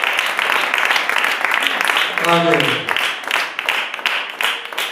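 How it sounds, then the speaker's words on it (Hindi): Church congregation breaking into applause during a Hindi-language sermon, a broad continuous clapping that swells and carries on under a spoken voice and brief singing. "क्या आप ताली दे?"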